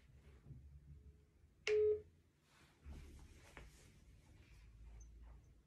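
A phone dials out for a second call with one short, loud electronic beep partway through, set against a quiet, low background hum.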